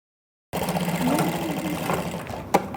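A sewing machine stitching a belt onto a fish-cut skirt starts suddenly after a short silence and runs as a steady, close whirring drone, ending with a sharp click.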